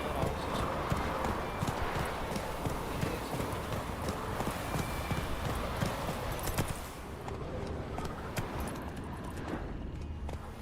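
Roach, a horse in The Witcher 3: Wild Hunt, gallops with rapid, loud hoofbeats pounding close and continuous, beneath a short spoken command and game ambience.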